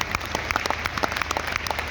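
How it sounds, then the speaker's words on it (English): An audience claps at the closing ceremony of the 10th World Ayurveda Congress, a brief burst of dense, close applause with many overlapping hand claps and no talk. "ये जो आप ताली मार रहे हैं"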